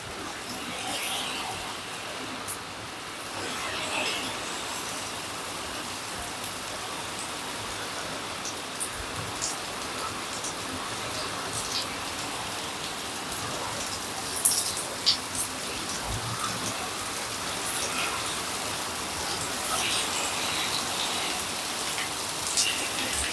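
Heavy storm rain falls steadily in East Mesa, Arizona, a dense, continuous hiss of drops on surfaces with occasional louder spatters, nearby and even throughout, with no talking.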